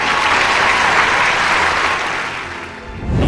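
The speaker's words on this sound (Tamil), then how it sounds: "சூப்பர் சூப்பர், ஒரு பெரிய கைத்தட்டல்." A big round of applause rises from an audience at a yoga wellness session: dense, sustained clapping that dips slightly before swelling again near the end.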